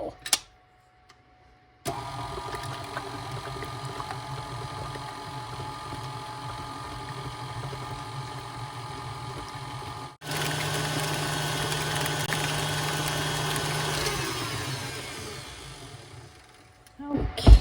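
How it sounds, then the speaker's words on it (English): Electric hand mixer blending cake mix cookie dough with cream cheese and orange flavoring, a steady whirring motor that runs for most of the stretch and grows louder and rougher near the end before stopping. "We're going to mix this all up, let it blend together really well."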